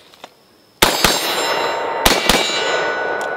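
Four loud, sharp reports from a Beretta ARX rifle, fired in two closely spaced pairs about a second apart, each leaving a ringing metallic clang and outdoor echo hanging between shots.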